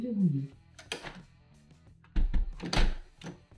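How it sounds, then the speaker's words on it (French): A Danalock V3 Bluetooth and Zigbee smart lock unlocking, heard as a mechanical thunk and motor-driven clunks of the bolt retracting, loud and close, following a synthetic voice announcement. "L'appareil première serrure est déverrouillé."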